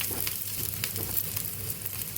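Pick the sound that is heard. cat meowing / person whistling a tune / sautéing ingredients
sautéing ingredients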